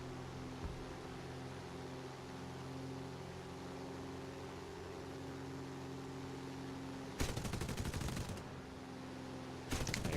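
P-40C Warhawk machine guns firing in War Thunder, a dense rattling burst erupting loud over steady engine drone for about a second, then a second short burst at the end.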